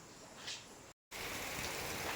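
Steady rain falls during a monsoon day, a dense hiss that cuts out briefly and then returns louder and fuller.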